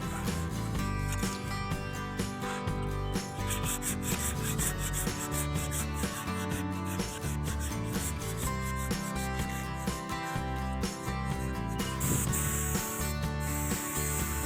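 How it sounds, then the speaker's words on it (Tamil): A Tata Ace truck body is sanded by hand before painting, giving continuous rasping, rubbing strokes that carry on steadily at a moderate level. "இதில் பக்காவாக மட்டும் பார்த்துட்டு சூப்பராக சேண்ட் பண்ணுறாரு பாருங்கள்"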